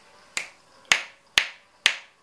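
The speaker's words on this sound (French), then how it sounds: "j'entends pas du tout mon claquement de doigts" Four crisp finger snaps at an even, unhurried pace, each a sharp isolated crack with a quick decay, close and clear over a quiet background while testing an MPOW H6 Bluetooth active noise-cancelling headset.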